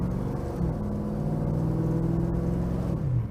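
A custom 1956 Chevy Bel Air with an LS3 engine accelerates, its exhaust giving a steady, loud engine drone heard from inside the car, with the pitch slowly climbing and then dropping briefly near the end.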